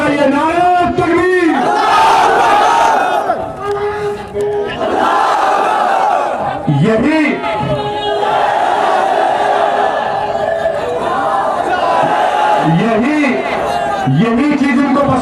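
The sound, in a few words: political rally crowd chanting the Takbir slogan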